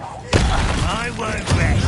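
A Confringo blasting spell in the Hogwarts Legacy video game bursts with a sharp thump, followed by a rumbling crackle. Shouted spell voices and battle noise continue over it, and a second impact lands near the end.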